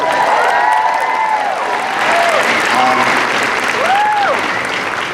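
Loud, sustained applause fills a convention hall at the San Diego Comic-Con Doctor Who panel, with cheering and whoops rising over the clapping and a few voices calling out through the crowd.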